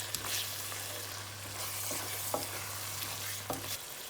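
Lamb mince keema sizzles steadily in a pan as it is stirred with salt and kasturi methi, a continuous close frying hiss with a few soft scraping strokes and no talk.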